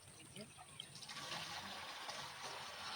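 Water pours and trickles into a herbicide spray mix in a tank of about 12 liters, a steady splashing flow that is faint and continuous, with people talking nearby.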